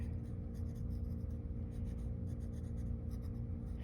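Pencil outlining graffiti letters on paper gives a close, continuous scratchy scribble of quick repeated strokes over a steady low background hum.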